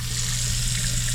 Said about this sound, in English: we will start running water